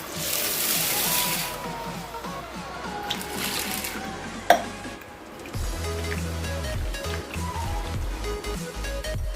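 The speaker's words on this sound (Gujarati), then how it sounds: "તો હવે આપણે એને 2 થી 3 પાણીથી ધોઈ નાખશું." Mixed lentils are rinsed in a bowl of water, with steady sloshing and swishing, a sharp clink near the middle, then softer, quieter swirling toward the end.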